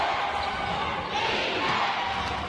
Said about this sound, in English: Crowd calling for defense